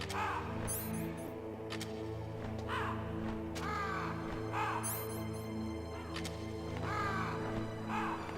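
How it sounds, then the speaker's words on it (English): Crows cawing in the Metal Gear Solid video game, a series of harsh, repeated caws spaced every second or so over a steady low game ambience, with occasional clattering effects and no talking. "Have a bit of fun with the crows."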